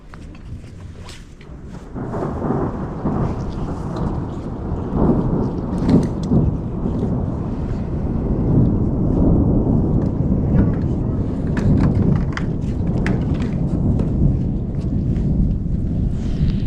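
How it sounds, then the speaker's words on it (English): Deep rolling thunder rumbles continuously through the Grand Canyon with heavy rain pouring down, loud and sustained, with occasional sharp cracks echoing around. "the thunder and lightning sounds crazy down here"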